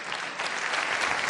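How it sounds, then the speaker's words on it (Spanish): Assembly applause for fallen young heroes and heroines killed in combat, heard as a steady, dense wash of clapping from a large gathering, brief and sustained at moderate level with no voices over it. "un minuto de aplauso para nuestros jóvenes héroes y heroínas que murieron en combate contra el agresor invasor."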